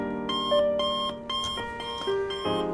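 A digital alarm clock beeps in a repeating run of bright electronic tones, loud and close with no other sound around it.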